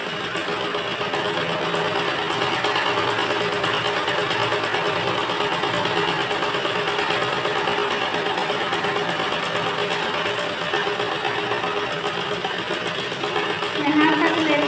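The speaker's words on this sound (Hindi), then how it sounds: "अब एक साइड से सिलते हुए हम इसको देखिए यहाँ से स्टिच करते हुए" A sewing machine stitches a princess cut blouse with a continuous, close, whirring mechanical run that stays even and unbroken for the whole stretch, with a slight swell near the end.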